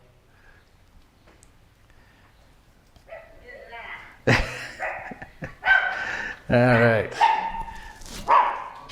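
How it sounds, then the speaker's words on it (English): Several dogs arriving and barking, with yips and a whimpering howl rising in bursts over the final seconds, fairly near and loud, while people talk briefly underneath. "here come all the dogs"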